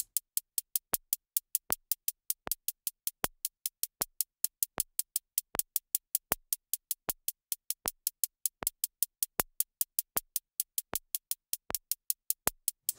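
A 16th-note groove plays against a click track in Logic Pro: a steady run of sharp, evenly spaced clicks keeps strict time, some hits accented, with no talk.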